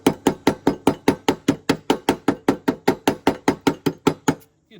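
A hammer chips slag off a fresh weld on a John Deere riding mower deck, about twenty sharp metallic strikes in a fast, even rhythm, close up, with no talk.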